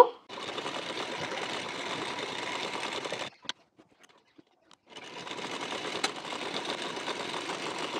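A sewing machine runs two lines of stitching along the edge of a blouse's belt piece: a steady, close whirring run, a pause of about a second and a half, then a second continuous run.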